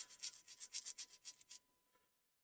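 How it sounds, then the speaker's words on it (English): Sanding stick worked with light pressure across a small plastic model aircraft part, a quick series of about nine close, raspy rubbing strokes that fade out after two seconds. "I'm not putting a lot of pressure on the sanding stick, I'm just letting the grip do the work"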